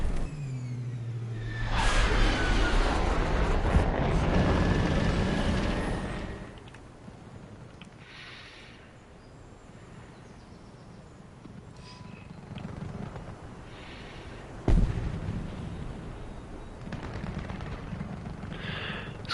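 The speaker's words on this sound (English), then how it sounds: "Oh, bomb." A bomb blast in War Thunder rumbles loud and broad for several seconds before fading into engine drone, followed by a sudden sharp crack later on.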